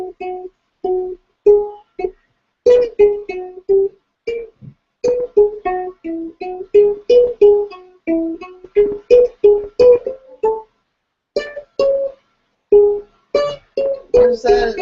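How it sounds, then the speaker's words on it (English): A melody from Spring, Vivaldi's The Four Seasons, comes through as a string of short, clipped pitched notes in a bouncy, uneven rhythm, separated by brief silences and played alone. "That's spring from the Four Seasons."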